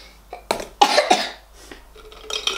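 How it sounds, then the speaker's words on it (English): A woman coughs a few times in quick, close bursts in a quiet indoor room, with faint handling noise afterward. "I've got a bit of a cough"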